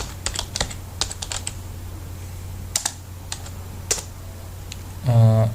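Keys clatter on a computer keyboard as text is typed into MS Word, arriving in short irregular bursts of clicks, close and fairly faint over a low hum, with a brief voice at the very end.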